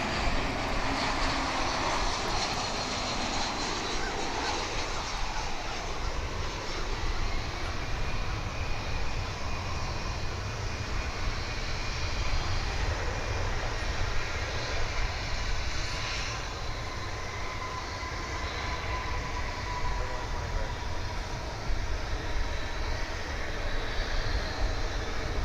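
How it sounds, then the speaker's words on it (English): Jet airliner inbound to DFW International Airport on a flight from Oklahoma City, a steady broad engine roar holding loud and continuous with a faint whining tone drifting through it. "So yonder cometh the flight from Oklahoma City."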